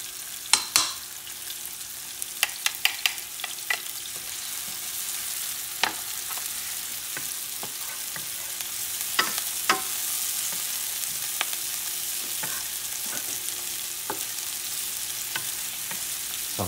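Eggplants and ground beef frying in a pan with sweet pepper give a steady close sizzle, broken by scattered clicks and scrapes as they are stirred and moved around.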